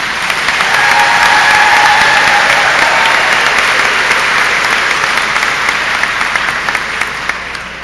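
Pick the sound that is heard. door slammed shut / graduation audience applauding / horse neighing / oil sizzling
graduation audience applauding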